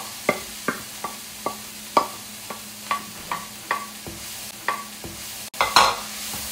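Beetroot stirred into lentils and tomato in a cooking pot, a spoon scraping in about a dozen steady, evenly spaced strokes over a soft sizzle, close and clear, with no talking.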